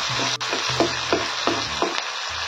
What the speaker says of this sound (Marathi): यात टाकूया आपण घेतलेला बारीक चिरलेला कांदा. याला छान लाल होईस्तोवर परतून घ्यायचंय.